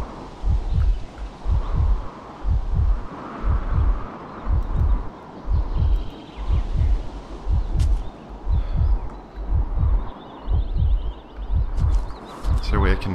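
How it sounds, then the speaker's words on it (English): A slow, steady thumping heartbeat from the survival game Miasmata, with deep double-thud pulses repeating evenly over a constant ambient bed of rustling and faint wildlife sounds. "Oh, your heartbeat."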